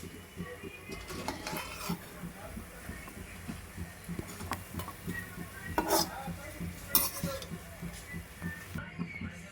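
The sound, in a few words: bread pieces being fried in a pan for double ka meetha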